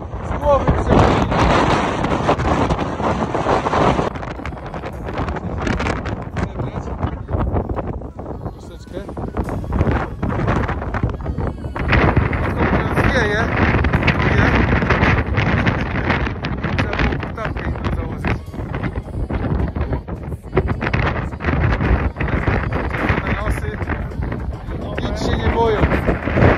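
Strong wind on a Tatra mountain summit buffets the microphone in heavy, continuous gusts, roaring loudly throughout with brief lulls.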